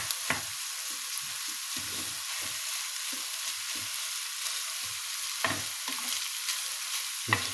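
Fatty lamb meat fries in a pan with its own rendered fat, giving a steady high sizzle, while a spoon stirs it in occasional scraping knocks spaced irregularly; quiet and close, with no talking.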